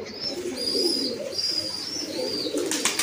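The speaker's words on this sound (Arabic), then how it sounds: "هذا الحمام" Pigeons coo steadily in a low, soft, throaty murmur, close by, with faint high chirps from other birds above them.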